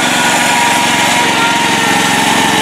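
A Mastercraft tractor's small engine roars steadily at high revs while its wheels spin in a mud puddle, a loud, continuous buzzing drone with no break.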